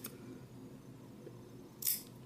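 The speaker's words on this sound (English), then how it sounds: "we're going to take and cut little chunks out" Scissors snip a notch into a fabric edge, heard as a single short, crisp cut near the end of an otherwise quiet stretch.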